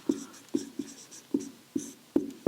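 A pen writes numbers while a maths problem is worked through, about seven quick, scratchy strokes in an uneven rhythm, close up and crisp, with no voice over them.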